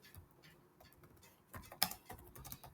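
Computer keyboard keys tapped while code is typed, a quiet uneven patter of clicks that grows busier and louder in the second half, with one sharper keystroke standing out.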